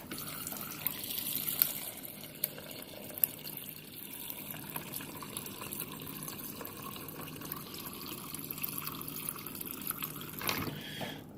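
A Whirlpool Gold French door refrigerator dispenses water from its door dispenser, a steady close trickle and splash of liquid running into a container for several seconds, with a few faint clicks and no talking.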